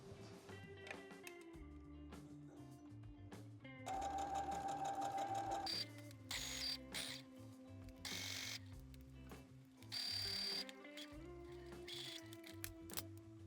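A sewing machine stitches a seam on summer beach cover-up pants in quick, rapid bursts with short pauses between runs, close and clear, with a small mechanical clicking at times.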